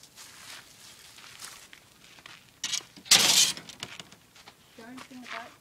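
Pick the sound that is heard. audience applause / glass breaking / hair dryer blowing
glass breaking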